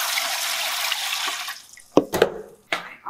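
Water pours steadily into a pressure canner, a continuous splashing rush that stops partway through, followed by a few scattered knocks and clunks of handling nearby.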